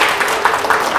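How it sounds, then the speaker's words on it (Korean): Audience applause for a speaker at a talk on what makes a good city, a steady dense patter of clapping filling the room with no break. "오늘 좋은 말씀해 주신 선생님께 다시 한번 큰 박수 부탁드리도록"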